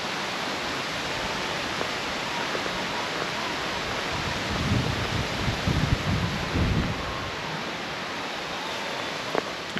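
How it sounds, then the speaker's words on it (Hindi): Wind blows steadily in hilly Darjeeling on a rainy morning, a broad continuous rush that swells a little louder in the middle before settling back. "मस्त हवा चल रही है।"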